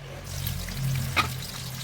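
Green chilies and spices fry in hot oil in a kadai, a steady close sizzle with a brief clink partway through and no voices.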